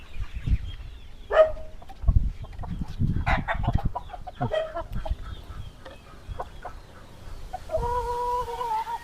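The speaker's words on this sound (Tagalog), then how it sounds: "Ang dami namin sisiw dito." Chicks and chickens on a game farm: close clucking, short squawks and high chick peeps scattered over several seconds, with rustling and scratching movement around them.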